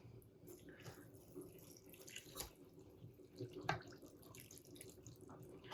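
Boiling water pours and trickles steadily into a pot of meatless cabbage rolls with mushrooms nearby, with occasional clinks and splashes; quiet and continuous with no talking.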